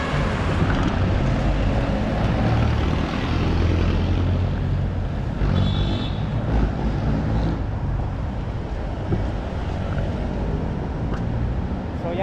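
A ride on an e-trike through heavy traffic along Taft Avenue toward Divisoria in Manila, a loud, steady wash of road and engine noise from passing vehicles all around, with no talk.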